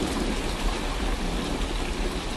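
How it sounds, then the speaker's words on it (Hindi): A cartoon sound effect of rain and hail pouring down: a dense, steady, loud hiss of falling drops with a low rumbling undertone, unbroken for the whole stretch and with no voices. "कुछ ही देर में बारिश के साथ साथ ओले भी गिरने लगते हैं।"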